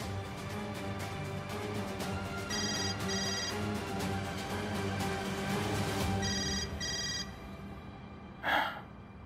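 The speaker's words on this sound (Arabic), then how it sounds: "ليه؟ تليفون." Two short bursts of electronic telephone ringing, each a quick rapid trill, rise over a steady bed of dramatic background music in a dubbed television drama scene.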